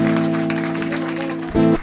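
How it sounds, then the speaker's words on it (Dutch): Audience applause at a Dutch comedy show, a steady wash of clapping under a held musical chord, swelling louder near the end. "Applaus voor jou."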